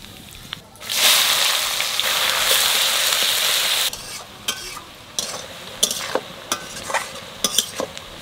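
A spoon stirs cooked, dried-out rice in a pot for basanti pulao, a loud sizzling scrape lasting about three seconds, followed by scattered lighter knocks and scrapes.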